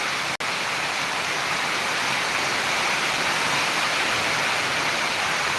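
Heavy monsoon rain pours down steadily in Buldhana district, a dense, loud, unbroken hiss with one brief dropout near the start.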